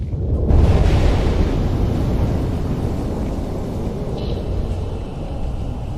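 Volcanic eruption blast, a loud sustained rumbling roar dense with low-end energy that starts abruptly and holds steady for several seconds.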